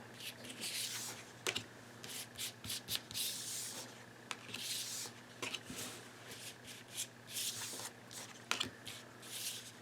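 A deck of cards is shuffled for a card reading, giving soft, close, papery rubbing and riffling in irregular bursts with sharper flicks between them over a faint steady hum. The sound is quiet and no one speaks.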